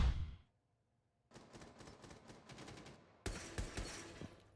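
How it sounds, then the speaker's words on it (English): Gunfire in Rainbow Six Siege during a collegiate esports match, with a burst of shots, a pause, then a sustained stretch of rapid rattling fire and a louder, denser volley at the end. "We hear the gunfire, but we're not seeing it anywhere"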